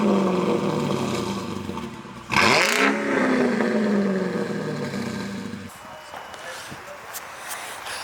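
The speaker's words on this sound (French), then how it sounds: "Alors elle a une ligne complète, elle fait un bruit de malade" A Mercedes Rocket Bunny car with a full exhaust line idles with a deep rumble, then the engine is blipped into a sharp, loud rev that rises and falls before settling back to a throaty idle, heard up close, with people speaking nearby.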